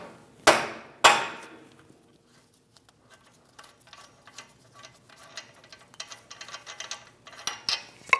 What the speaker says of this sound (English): Give it a few taps with your hammer.